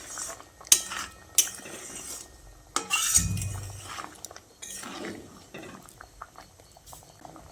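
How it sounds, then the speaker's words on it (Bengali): Spoon stirring fried fritters into gravy in a pan while cooking a green pea dish, with metallic clinks, soft scraping and a muffled thump of the pan, moderately close with no talking. "গ্রেভির সঙ্গে বড়াগুলোকে একবার ভালো করে নেড়েচেড়ে মিশিয়ে নিচ্ছি"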